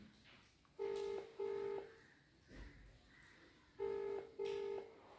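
An outgoing phone call rings unanswered on loudspeaker, two pairs of steady electronic ringback tones separated by a pause, faint and close in a quiet room.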